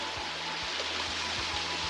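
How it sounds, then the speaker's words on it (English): The Matilija waterfall pours over rocks into pools, a steady broadband rush of falling water heard close and continuous throughout with no voices. "And another gorgeous waterfall."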